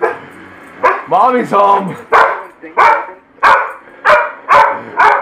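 A dog barks loudly and repeatedly in a steady, rhythmic run of sharp barks, close by, with a voice speaking over the first few.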